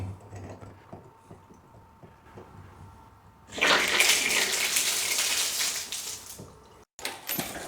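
Water surges through newly installed shower drop ell plumbing being flushed out, a sudden loud rushing gush after quiet handling noises, running steadily for about three seconds, briefly cutting out, then resuming.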